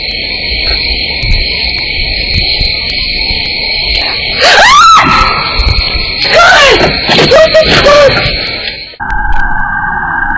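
A woman's scream is heard in amplified footage. Several loud, sweeping wails and shrieks rise and fall in the middle of the clip over steady high electronic tones and background hiss.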